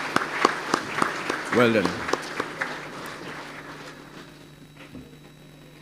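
An audience at a school graduation ceremony claps for past students, steady applause that gradually thins and fades, with a voice speaking briefly over it.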